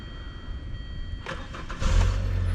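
A car engine cranks and catches during a test start after an LPI fuel pump repair on part no. 33051 3F000, with a short burst of starter noise followed by a steady low idle rumble, close and moderately loud.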